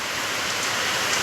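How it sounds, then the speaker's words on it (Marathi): Steady morning rain falls outdoors in a dense, even hiss that is loud and continuous, with no voices over it. "पाऊस काय थांबायचं नाव नाही घेत आहे बघा"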